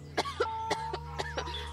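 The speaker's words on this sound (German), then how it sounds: "Entschuldigung, mein Husten, Verzeihung." A person coughs several short times in quick succession over steady low background hum, close and fairly soft.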